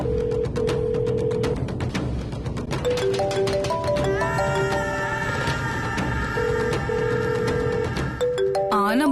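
An incoming call rings on a mobile phone as a loud melodic ringtone with repeating tonal phrases that play continuously, close to the listener, over a faint background bed.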